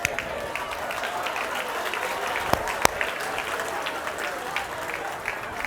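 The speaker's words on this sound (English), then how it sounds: "Round of applause." Applause from a crowd at a college all-staff gathering, steady dense clapping throughout with a couple of sharper claps standing out, voices faintly underneath.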